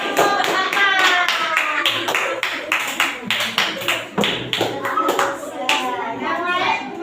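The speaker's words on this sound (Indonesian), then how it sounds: "tepuk tangan untuk kelompok 4" A classroom of children claps for a group, loud rapid hand claps that gather into a dense burst with scattered individual taps, while a teacher's voice and children's chatter carry over the clapping.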